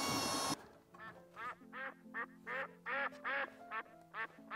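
A duck quacks about ten times in a lively, uneven series of nasal calls, clear and close, after a short burst of unrelated noise at the start.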